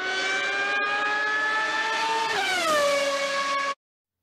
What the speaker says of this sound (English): showing you a quick clip of a Formula One car going past